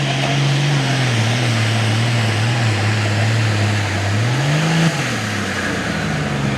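A Limited Pro Stock pulling tractor with a turbocharged engine roars steadily at close range, holding a loud drone that dips and then swells near the end as the throttle changes, with no talk.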